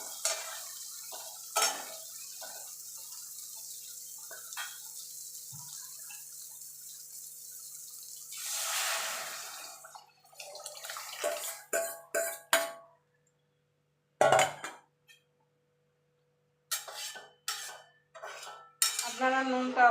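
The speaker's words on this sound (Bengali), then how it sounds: "এবার আমি ডালটাকে সম্বাদ দিয়ে দেবো।" Lentil dal with tomato being stirred in a pot, with metal spoon scrapes and clinks against the pan, soft sizzling and pauses of near silence in between; no talking.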